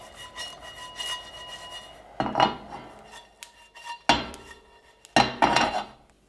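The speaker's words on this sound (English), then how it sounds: "put the sliced almonds into a pan and we're going to toast it. Spread it around and just give the almonds a little toss time to time" Sliced almonds toasting in a pan and tossed now and then, giving loud rattling scrapes and clatters in separate bursts over a quieter sizzle-like hiss, close up and with no talking.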